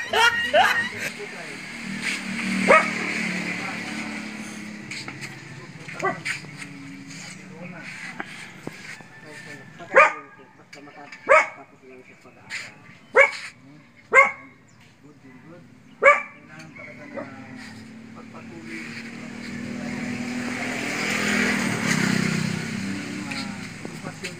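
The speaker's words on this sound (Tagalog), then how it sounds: "Aso ko lang dito." A dog barks several times in short separate bursts, some close together, with people talking quietly around it.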